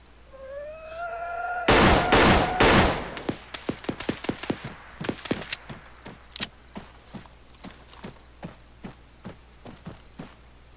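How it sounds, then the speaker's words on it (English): Gunfire in the video game Arma 3: a dense burst of loud shots early on, then a long run of sharp, evenly spaced single reports that gradually thin out and fade, with no talk over them. "Some motherfucker shooting over here"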